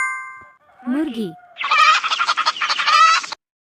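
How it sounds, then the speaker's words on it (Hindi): A hen clucking in a burst of loud, rapid squawks and clucks follows a short gobbling fowl call, with an electronic tone before it, in a cartoon setting. "मुर्गी।"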